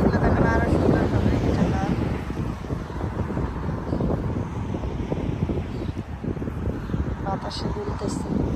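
Wind blows steadily through a rose garden, a continuous rushing and buffeting close to the microphone, with a voice speaking over it.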